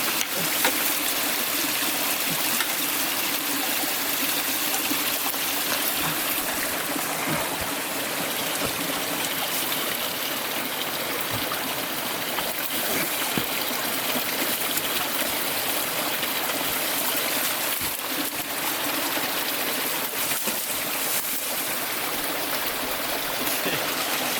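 A waterfall pouring down a cliff face on a mule deer hunt in Idaho, a steady broadband rushing roar of falling water that stays constant and fairly loud throughout, with no voices.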